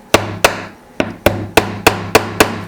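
Hammer blows on a nail driven into wood in a community woodshop, eight sharp close strikes in a fairly steady rhythm, each with a short ringing decay.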